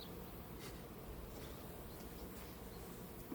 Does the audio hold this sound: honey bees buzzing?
yes